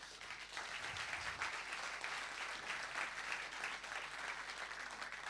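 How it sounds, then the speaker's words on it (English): A small conference keynote audience gives light, steady applause for the sponsors, a thin, even patter of clapping that holds throughout at a low level. "Maybe a little applause for the sponsors."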